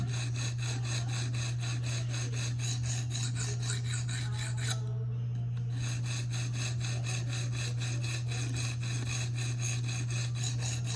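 Knife blade of a Spyderco REC Manix 2 rubbing on a sharpening stone, a steady continuous rasping scrape with a faint regular stroke pattern, close and constant over a low steady hum.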